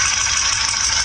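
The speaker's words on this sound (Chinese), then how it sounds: "发动机气门异响" A car engine with an abnormal valve noise, a fast steady metallic ticking rattle over the running engine, close and continuous.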